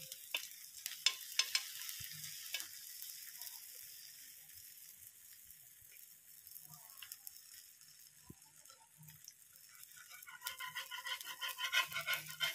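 Batter frying in desi ghee on a clay chulha stove, a soft, low sizzle with faint scraping and stirring sounds that swell slightly toward the end, with no talking.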